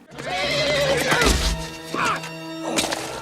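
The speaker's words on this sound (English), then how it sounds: "Naughty horse." A cartoon horse from an animated film whinnies loudly and close, a wavering neigh over a cluttered mix of thumps and clatter, with a second shorter whinny near the end.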